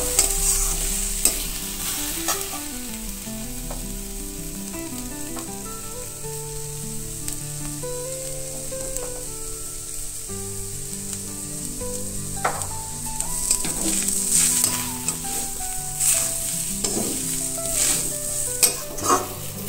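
Grated coconut and turmeric powder fry in a pan with a steady sizzle for the whole stretch. A utensil stirs and scrapes the pan now and then, with small knocks, and no one speaks.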